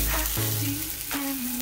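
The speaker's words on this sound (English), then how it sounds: "So we're melting the butter." Butter melts and sizzles in a preheated 10-inch gourmet pan, a soft, steady frying hiss heard up close and alone for a moment.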